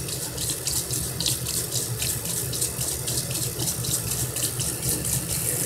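Tap water runs steadily into a sink, rinsing soap suds out of an Urban Decay dual-sided eye makeup brush, a continuous close splashing hiss with slight fluctuations as the brush moves under the stream.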